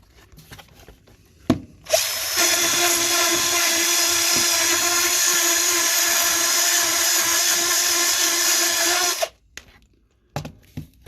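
A power drill whines at high speed for about seven seconds, steady and loud, with brief clicks before and after, while scrubbing dried tyre sealant from a tubeless bicycle wheel.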